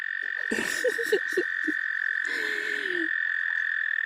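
Frogs croak outdoors in a quick burst of several close, throaty calls followed by one drawn-out croak, set against a steady high insect-like drone.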